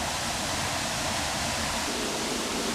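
A waterfall on a hiking trail pours with a loud, dense, steady roar that fills the air without a break.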